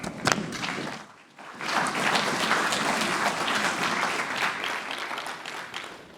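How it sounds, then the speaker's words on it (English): A large conference audience breaks into loud, sustained applause for a finance panel on securities clearing and settlement, starting after a brief lull with a few sharp early claps and holding steady to the end. "Big round of applause to them."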